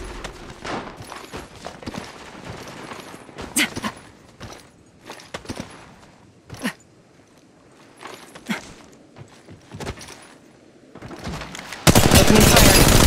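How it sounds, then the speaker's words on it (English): Gunfire in the mobile game Apex Legends Mobile during a ranked match, scattered sharp shots and short bursts mixed with footsteps and game effects, ending in a loud sustained burst of fire. "Opening fire."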